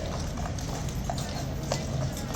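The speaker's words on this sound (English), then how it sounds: "Here comes the horse." A horse's hooves clip-clopping on a hard surface at a guarded site, a steady walking rhythm of crisp knocks over a dense crowd murmur, fairly close.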